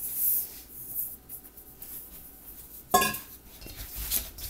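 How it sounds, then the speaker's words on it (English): A spoon stirs sugar into a creamed mixture by hand in a bowl, making intermittent close scraping strokes with one sharper clatter partway through. "Stir that up."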